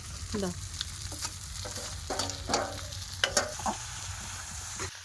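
Potatoes frying in a home kitchen pan, a soft continuous sizzle with occasional stirring scrapes and clicks, fairly quiet and close.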